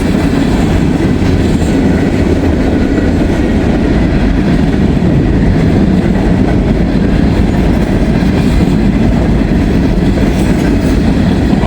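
Freight train of gondola cars rolling past close by, a steady loud rumble with rhythmic clickety-clack of wheels over rail joints throughout, no talking.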